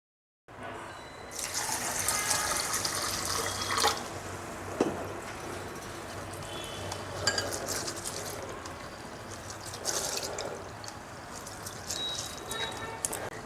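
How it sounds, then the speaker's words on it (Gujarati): Lentils and rice rubbed and washed by hand in a mixing bowl of water, with repeated sloshing and splashing bursts close up, some sharper swishes standing out against a continuous wet churn. "આ રીતે હાથેથી ચોળીને ધોશો"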